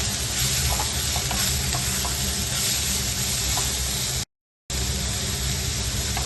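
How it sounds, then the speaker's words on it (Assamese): Onion and capsicum frying and being stirred in a pan, a loud continuous sizzle with steady hiss and occasional scraping taps, broken by one brief silent gap. "ভালদৰে মিক্স কৰি ল'ম গোটেইখিনি।"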